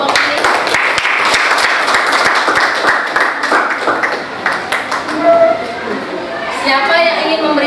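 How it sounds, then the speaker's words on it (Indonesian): A room full of people claps loudly and steadily for several seconds, with scattered voices and chatter as the applause fades. "tepuk tangan dulu untuk kelompok ini."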